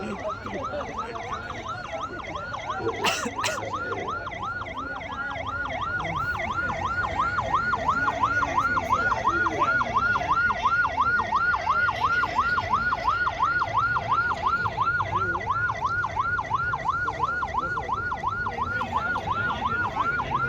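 A fire brigade vehicle sounds a steady, continuously wailing siren that repeats in quick regular cycles, loud and close, at a Republic Day parade in Darbhanga with crowd noise underneath.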